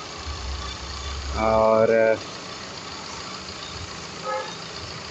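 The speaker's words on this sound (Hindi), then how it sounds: "डीजल इंजन है तो आवाज़ तो खैर आना बनता भी है, लेकिन पहले से काफ़ी कम आवाज़ हो गई है।" A serviced Tata Indigo eCS diesel car engine idles with a low steady rumble, and a horn toots loudly for under a second midway, with a shorter toot later. Someone speaks briefly over it.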